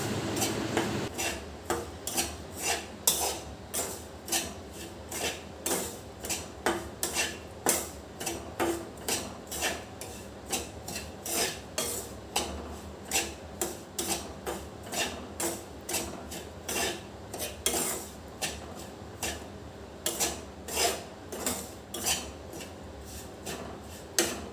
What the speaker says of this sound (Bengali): যতক্ষণ না কালারটা চেঞ্জ হচ্ছে ততক্ষণ এটা নাড়তে থাকতে হবে, যাতে তলায় না লেগে যায়।